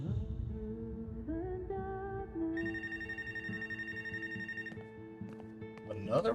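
Telephone ringing in the video game Life Is Strange: Wavelengths, a sustained electronic ring tone entering midway and holding for about two seconds over game music and background sound.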